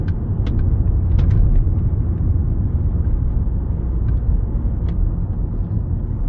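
Volvo S60 D5 automatic pulling onto a roundabout, heard from inside the cabin as a steady, loud low rumble of engine and road noise with a few faint clicks, no talking.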